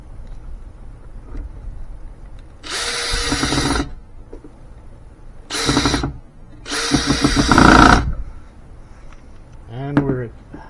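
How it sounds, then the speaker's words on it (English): A power drill drives a screw into a wooden planter support in three loud, close bursts of whirring, with a quieter pause between them and a brief voice near the end. "We'll put in one screw to the outside and then we'll finish it up."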